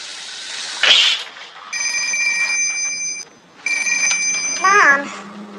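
A telephone rings in two bursts, each a steady electronic trill lasting over a second, loud and close, separated by a brief pause, with other short sounds before and between them.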